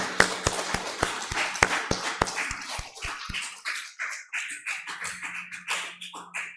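A church congregation claps in encouragement during a worship service, with many sharp close hand claps, an even steady burst at first, then thinning into scattered softer claps alongside faint voices.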